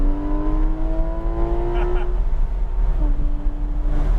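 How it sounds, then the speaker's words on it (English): A Porsche 911 GT3 RS accelerates on a race track at Palm Beach, Florida, its loud in-cabin engine note climbing steadily before a gear shift drops the pitch around three seconds in, then rising again. "And then you can add a little bit of throttle."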